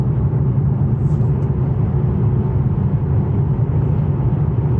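Infiniti M56 sedan cruising and accelerating on a highway, heard from inside as a steady, loud low rumble of engine and road noise with no distinct changes, no talking.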